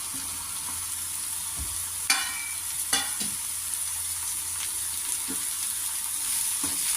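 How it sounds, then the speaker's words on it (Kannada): Ridge gourd and onions fry in oil in a pan, a steady soft sizzle with a few scraping stirs of a spatula, close and without talk. "ಹೀರೆಕಾಯಿನ ಸೇರಿಸ್ಕೊಂಡು ನಾವು ಚೆನ್ನಾಗಿ ತಿರುಗಿಸ್ಬೇಕು."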